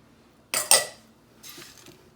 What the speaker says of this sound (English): this is baking powder and salt. I'm going to mix that in